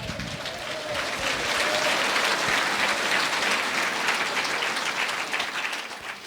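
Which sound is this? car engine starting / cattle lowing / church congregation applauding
church congregation applauding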